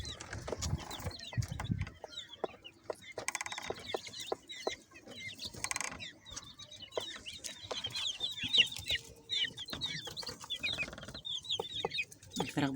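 Chickens clucking on a rooftop, a steady stream of overlapping clucks and short calls from several birds nearby, with scattered clatter and bumps underneath.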